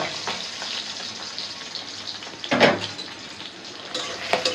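Onion, garlic and green chilies fry in hot oil in a wok, a steady moderate sizzle with a louder burst of crackle partway through as more goes in, plus faint utensil clinks.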